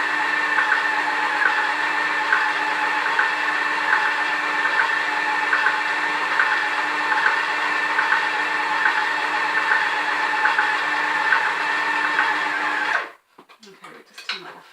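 Electric mixer beating lemon and elderflower buttercream runs at a steady, loud whirring drone with a faint rhythmic pulse, then cuts off abruptly near the end, leaving quiet handling sounds.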